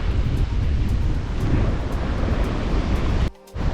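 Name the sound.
ocean waves at Indonesian sandbank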